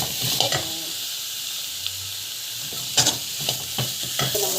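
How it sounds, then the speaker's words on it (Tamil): Fennel seeds sautéing in a pan: a close, continuous sizzle with intermittent scraping strokes as they are stirred, and no talk. "சோம்பு போட்டு நல்லா வந்து வதங்கட்டும்."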